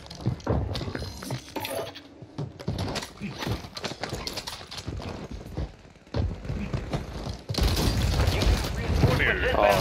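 Shotgun blasts ring out in a first-person shooter match as several loud, sharp booms and impacts, mixed with game effects and heavy, energetic chatter from players.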